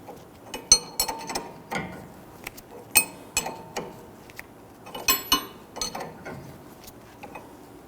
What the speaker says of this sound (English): Let's tighten down the nut here for our strut.